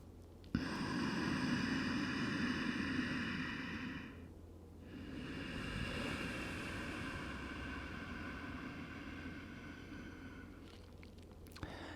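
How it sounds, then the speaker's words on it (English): Soft, steady ujjayi yoga breathing, an ocean-like hiss of air drawn in and out through a narrowed throat, continuous and close with a brief dip partway through, no talking. "the technique that we use in yoga, as you probably are aware of, is ujjayi breathing, which is this really soft ocean-like sound."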